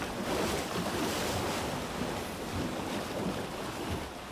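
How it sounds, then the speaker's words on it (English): Sea waves surging at open water beside deep cliffs, pushing a raft, with a constant loud wash of surf and wind noise filling the whole stretch and no voices. "And these waves are pushing the raft towards the cliffs."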